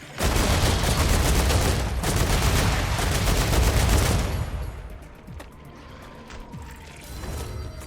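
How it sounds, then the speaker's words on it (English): Gun reloading in StarRupture: about four seconds of loud, dense rapid-fire gunfire, then quieter metallic clicks and clacks of the weapon mechanism with scattered sharp hits. "Strategic reload."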